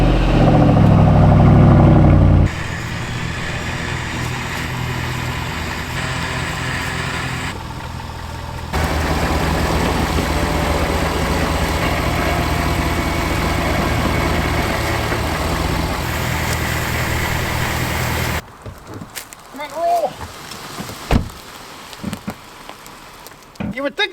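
An air-cooled engine idles with a steady, continuous drone that holds loud and even for most of the stretch, then cuts to near quiet with scattered faint knocks and handling sounds toward the end.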